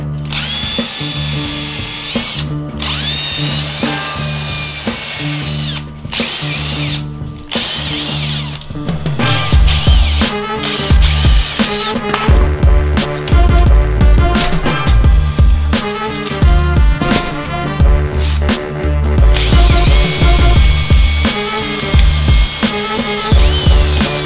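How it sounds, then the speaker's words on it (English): Power drill boring out metal rivets on an NZXT H440 PC case, loud and close, with repeated bursts of high whining drilling, short pauses between rivets and ratcheting mechanical chatter, no talk. "So I'm gonna go ahead and get it drill all these rivets and get it taken apart."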